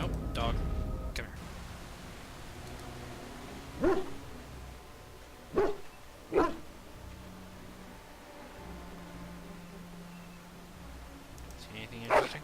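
A dog companion in the fantasy role-playing game Dragon Age: Origins lets out four or five short, sharp barks, spaced out and fairly close, while a player talks quietly underneath.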